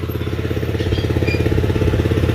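A pump machine draining water from a pond runs with a loud, steady, rapidly pulsing engine chug, close by and unbroken.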